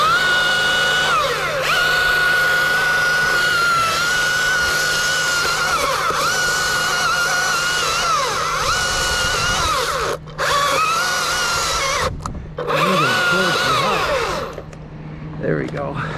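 A chainsaw cuts notches into a Douglas fir trunk outdoors, its engine whining loud and close at a high steady pitch, briefly dropping off twice near the end before revving again.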